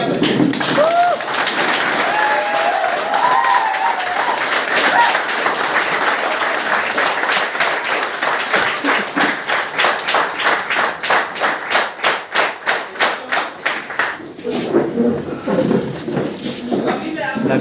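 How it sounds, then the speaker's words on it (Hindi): Standing audience applauding loudly for themselves, a dense sustained clapping that turns into rhythmic unison claps near the end before fading under a voice. "बार खड़े होकर खुद के लिए जोरदार तालियां बजाएं।"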